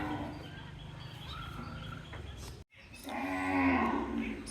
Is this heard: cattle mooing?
yes